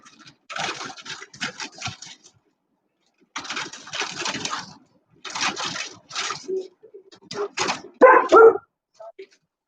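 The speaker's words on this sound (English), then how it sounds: "That's the dog now." A household dog barks in bursts during cooking at home, its yips and barks mixed with human voices, moderately loud and fairly close, with pauses between bursts.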